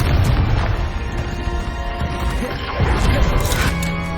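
In Hogwarts Legacy, a Confringo spell explodes with a heavy boom and crashing debris in the middle of a duel, followed by a second sharp hit and a shimmering burst near the end. A voice is heard faintly under the combat.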